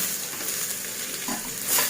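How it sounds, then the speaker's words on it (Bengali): Sliced onions hit hot oil over whole-spice tempering in a home kitchen, a close, bright sizzle with scraping stirring that swells near the end, brief and without talk. "এবার আমি পেঁয়াজগুলো দিয়ে দিচ্ছি।"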